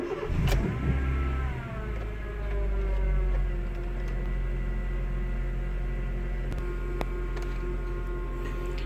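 A Honda car engine starts and then settles into a steady, low idle after its idle air control valve was cleaned, close and continuous, with faint clicks near the end.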